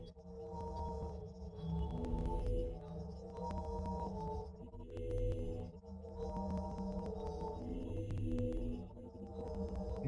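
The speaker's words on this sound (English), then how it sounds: "can clearly hear the clicking type effect that appeared frequently in this version of the granular synthesis model" Synthesized tonal textures from a GAN-based granular synthesis model swell and fade in repeating waves, peppered with tiny clicking artifacts, quiet and with no voices.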